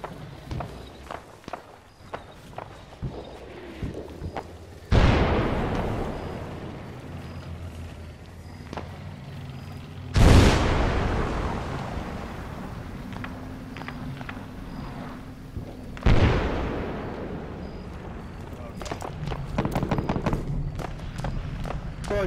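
Three heavy mortar impacts burst in an Arma firefight on the island of Tanoa, each a sudden loud broadband blast with a long rumbling decay, spaced roughly five seconds apart over scattered footsteps and small clatter.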